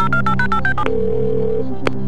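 Telephone keypad tones in the PS1 game Who Wants to Be a Millionaire during the phone-a-friend lifeline: a quick run of about seven loud beeps, a short ringing tone, then a final brief beep.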